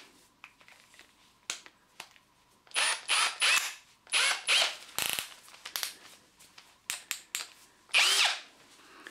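An 8mm diamond-coated hole saw bit in a power drill cutting into granite, heard as intermittent bursts of grinding, whining drilling separated by pauses and small clicks, fairly close.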